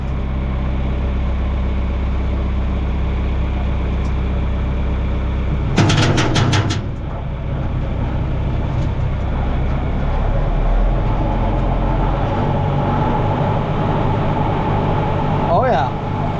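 A new riding lawn mower's engine runs steadily with its blades spinning, a constant loud drone broken by a brief rattling clatter partway through, with voices mixed in.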